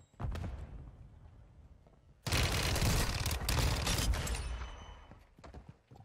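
RPK light machine gun firing in Warzone 2, a loud sustained burst of automatic fire lasting several seconds after a few scattered earlier shots, with no talk over it.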